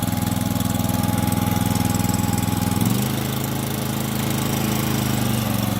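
A Honda EB2800i portable generator runs steadily at close range, a loud, even engine drone that shifts pitch slightly partway through before settling into a steady hum.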